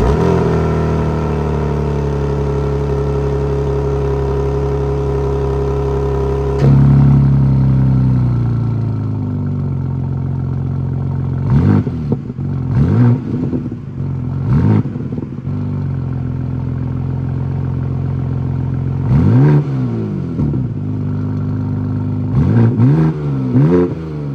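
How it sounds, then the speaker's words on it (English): A 2023 Brooklyn Grey BMW G87 M2 idles with a deep, steady exhaust rumble that then drops lower. Several sharp, quick throttle blips follow in two clusters, each rising and falling back to idle. "I guess the only thing left is to hear what the exhaust sounds like."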